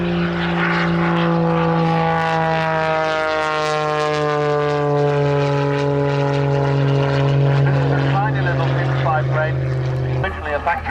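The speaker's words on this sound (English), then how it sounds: "the most extraordinary biplane. It's called Purple Violet" A rare biplane with four sets of wings flies overhead, its propeller engine droning loudly and steadily with a pitch that slowly falls as it passes, then cuts off near the end.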